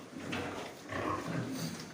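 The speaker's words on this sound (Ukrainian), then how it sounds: "Ну, а це ж наші французькі п'єтренчики." French Piétrain pigs grunt and snuffle in a pig farm barn, low close-up grunts overlapping in a steady murmur.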